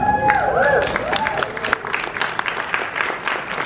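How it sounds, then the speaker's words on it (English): Audience applause at a Halloween Horror Nights panel at a fan convention rises under a brief electronic whine, then settles into steady, fairly loud clapping mixed with crowd noise. "I'll let the applause build"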